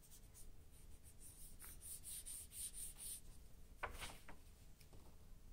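A colored pencil buffs over paper in quick back-and-forth strokes, a soft, close scratchy rubbing that comes in short bursts with brief pauses, plus a sharper scrape near the end.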